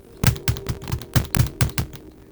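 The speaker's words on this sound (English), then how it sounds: "I can prove this by actually, you can just hear the clicking." Chromebook keyboard keys clicking in a quick, fairly even run of about nine sharp, close taps with no talking.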